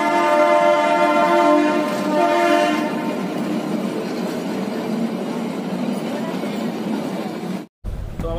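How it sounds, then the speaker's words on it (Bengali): A Kalka–Shimla narrow-gauge toy train departs with a long, loud horn, then a steady rumble and rattle of the carriages as it runs, heard from on board, with a brief dropout near the end. "সঠিক টাইমে ট্রেন আমাদের যাত্রা শুরু করল কালকা থেকে শিমলার।"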